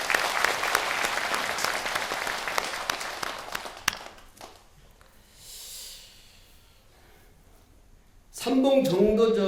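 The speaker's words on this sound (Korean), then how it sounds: "고맙다고 건강하시라고 박수 한번" An audience at a Sunday Buddhist dharma service at a temple bursts into loud, dense applause that fades out after about four seconds, leaving quiet room tone before a voice resumes speaking.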